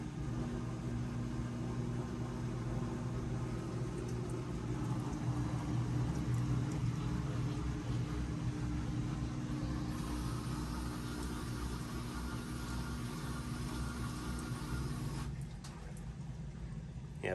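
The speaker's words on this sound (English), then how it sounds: "Now it should start to drain, and it will go into spin automatically." A GE washing machine with a faulty door strike drains and spins, a steady close whir and hum that runs without a break and drops slightly near the end.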